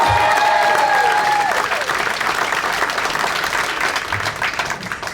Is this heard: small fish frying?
no